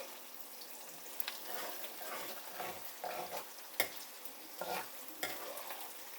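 Onions with fenugreek seeds fry in a pan for methi aloo, a soft sizzle broken by several sharp stirring scrapes, quiet and close with no talk.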